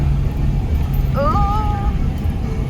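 A very old car drives up a hilly street in Belo Horizonte, Brazil, with a steady low engine and road rumble heard from inside, and a brief whistling squeal partway through.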